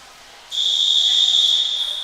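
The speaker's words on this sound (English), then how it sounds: "Get a long whistle." A single long, steady whistle blast sounds at a swimming race start just as swimmers are called onto the blocks, a loud, piercing tone held for about a second and a half after a quiet opening.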